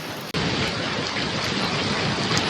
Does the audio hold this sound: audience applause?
no